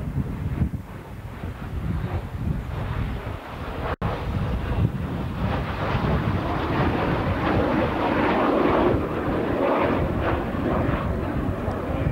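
Four aerobatic airplanes at an air show rejoining a close formation after a barrel roll: a continuous loud engine roar passing overhead, mixed with heavy wind buffeting on the microphone.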